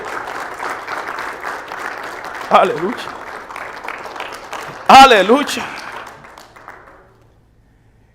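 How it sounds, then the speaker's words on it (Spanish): A church congregation applauds in a sustained, even wash of clapping that fades out near the end, while a voice calls out twice over it in Spanish. "Dale fuerte ese aplauso al que vive."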